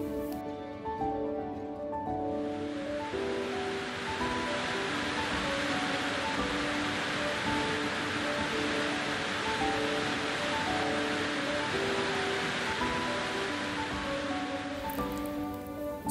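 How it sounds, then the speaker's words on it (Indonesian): Light rain drizzles steadily over a remote Dayak Meratus mountain village, a soft continuous hiss of droplets with faint tonal music underneath, even and moderately quiet throughout. "Setibanya di Juhu Bincatan, kami disambut rintik hujan."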